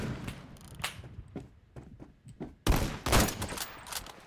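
Gunfire in the Phantom Forces shooter game: scattered sharp shots early on, then a louder burst of rapid firing near the end, with footstep-like thuds between.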